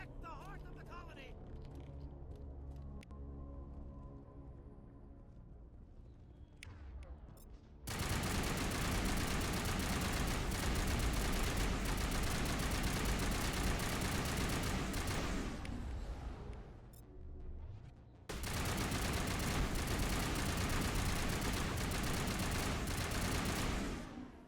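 Heavy, sustained gunfire from the Mass Effect video game fills two long stretches, a dense continuous roar broken by a brief lull, after a quieter opening with scattered sounds.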